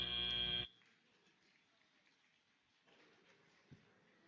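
A loud, sustained electronic buzzer ends a robotics competition match, blaring for about half a second before cutting off into quiet arena ambience.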